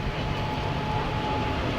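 A Jan Shatabdi passenger train rumbles past nearby between Chennai and Nellore in a steady, continuous roar, with no breaks or talking.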